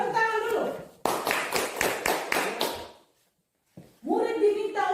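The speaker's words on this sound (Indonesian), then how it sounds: "Tepuk tangan dulu." A group at a school claps hands in a brisk, rhythmic pattern of about six sharp beats, close and loud, between stretches of talking, with a short silence after the claps.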